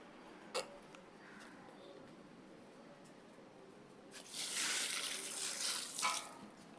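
Quiet room tone with a small knock, then running water gushes and splashes for a couple of seconds as pasalai keerai greens are rinsed under a tap.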